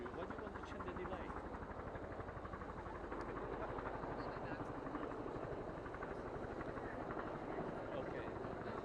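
Press helicopters fly at a golf course in Scotland, a steady, rapid rotor chop throbbing continuously beneath faint indistinct voices, distant and low in level.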